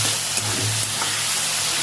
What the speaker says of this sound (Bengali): চিংড়ি মাছগুলো দিয়ে দেবো, লবণ দিয়ে দেবো, হলুদ গুঁড়ো, মাছটা ভেজে নেবো আগে।